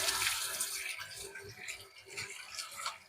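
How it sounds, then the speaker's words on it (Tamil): Water from a running tap splashes steadily as hands are washed with oil at a home kitchen sink, a continuous close hiss and patter with no talking. "எண்ணெயை ஊற்றி ஹேண்ட் வாஷ் பண்ணிக்கலாம்."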